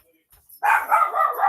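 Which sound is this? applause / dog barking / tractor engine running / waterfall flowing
dog barking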